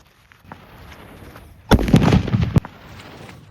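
A Holi colour bomb bursts with a sudden loud blast and a second of crackling rumble, ending in a sharp pop, after a quiet stretch of faint outdoor background.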